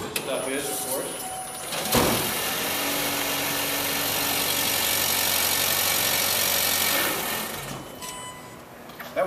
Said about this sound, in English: The gasoline engine just turned on when I popped the hood because that's a safety feature.